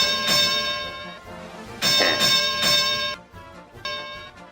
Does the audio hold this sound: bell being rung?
yes